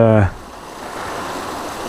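Fresh mountain water of the Cascades on Mt Wellington flowing steadily as a broad, even rush, nearby and continuous, after a short burst of something else at the very start.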